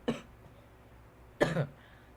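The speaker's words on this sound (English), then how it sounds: "Sorry for the coughing" Two separate coughs, the first short and lighter, the second heavier and slightly longer, close to the mic with quiet room tone between.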